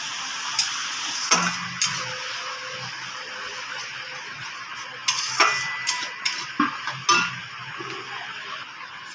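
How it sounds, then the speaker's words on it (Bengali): Ground tomato paste stirred and dried out in a pan: a soft continuous sizzle broken by scattered clicks and scrapes of a spoon against the pan, growing busier toward the end. "যে টমেটোটা বেটে রেখেছিলাম কড়ার মধ্যে দিয়ে দেবো। টমেটো বাটার মধ্যে এক্সট্রা যে জলটা আছে ওটা আমি নাড়তে নাড়তে শুকিয়ে নেব।"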